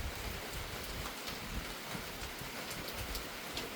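Steady heavy rain falls on surfaces outdoors at a rural Thai spot where water is collected, a dense, even hiss of drops close by, continuous and without voices.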